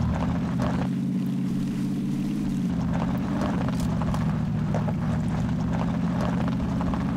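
Buggy engine in PUBG Battlegrounds driving along, a steady loud motor drone running through the whole stretch with slight pitch wavering and scattered gunfire-like clicks on top, no voices.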